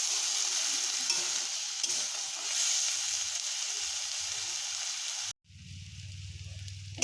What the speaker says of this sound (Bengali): এটা আমরা খুব ভালো করে মশলার সঙ্গে বাঁধাকপিটা কষিয়ে নিয়েছি।